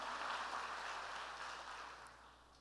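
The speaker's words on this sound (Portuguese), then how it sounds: "Pode aplaudir o Senhor." Congregation applauding during a church celebration service, a steady broadband wash of clapping that fades slightly toward the end, moderately distant and soft.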